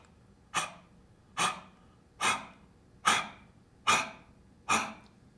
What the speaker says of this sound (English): You do probably 5 or 6 of those exhalations, short exhalations, but that completely empties the lung,